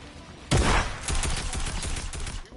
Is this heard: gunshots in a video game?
yes